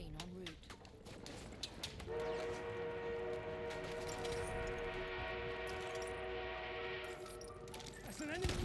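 An armored train approaches in Battlefield 1, heard as a sustained tonal whistle and rumble that swells and holds for several seconds, with talk and game noise around it.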